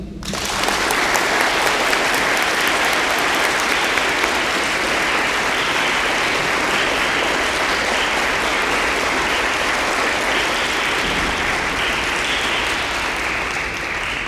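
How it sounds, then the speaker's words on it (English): Sustained audience applause fills a high school MCJROTC awards ceremony as a veteran service member stands to be recognized, a steady, dense crowd clapping that holds evenly throughout with no speech over it. "Ladies and gentlemen, join me in a round of applause."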